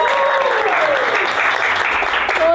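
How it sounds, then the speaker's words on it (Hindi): An audience applauds Suhani Shah's squad with steady, dense clapping that holds at an even volume for the whole stretch, and only faint traces of voices. "सो एक जोरदार ताली हो जाए सुशा स्क्वाड के लिए"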